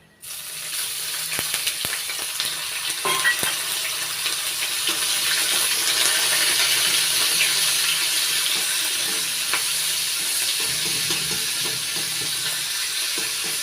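Ginger paste hits hot oil spiced with whole garam masala, and a loud, steady sizzling hiss builds and holds throughout, with occasional faint stirring clicks and no talking.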